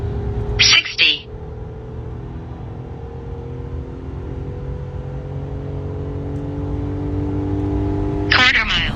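A 2025 RAM truck with a naturally aspirated V6 Pentastar engine drones steadily as it accelerates in a 0-60 run, heard from inside the cab with brief voices at the start and end.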